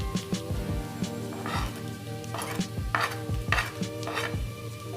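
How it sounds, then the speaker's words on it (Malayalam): Spices being stirred into a sautéed masala for tawa paneer in a frying pan, with repeated scraping strokes over a steady low sizzle and soft clinks of the spoon against the pan. "ഇനി നമുക്കിതിലേക്ക് മസാലകൾ ചേർത്ത് കൊടുക്കാം."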